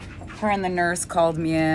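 Several excited pet dogs whimper and whine in high, wavering cries right beside a person talking, loud and continuous across the moment.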